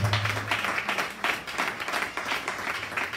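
At a church service a congregation gives steady, moderately dense applause that swells and eases in waves, somewhat distant, with a low hum underneath at first.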